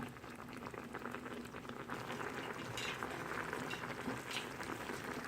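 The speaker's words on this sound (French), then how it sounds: "Voilà, et je laisse cuire la sauce." A cream sauce of crème fraîche, mushrooms and green olives for beef steaks simmers in a pan, giving a steady, close bubbling and fizzing that continues without a break.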